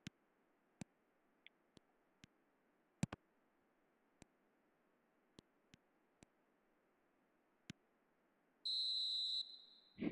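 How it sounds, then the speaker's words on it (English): A referee's final whistle in the eFootball video game sounds as a single sharp, shrill blast near the end, following scattered faint ticks. "And there goes the final whistle."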